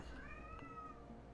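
A pet cat meows in the background, a drawn-out rising and falling cry of about a second, faint under steady room noise.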